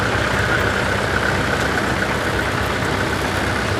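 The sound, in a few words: tractor engines running, tractors towing a string of toys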